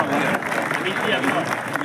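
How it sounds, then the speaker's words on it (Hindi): Audience applause at a welcome ceremony held at a yoga centre in a Shiva temple, a crowd clapping steadily and fairly close, with a voice talking over it. "तालियां बजती रहे, तालियां बजती रहे।"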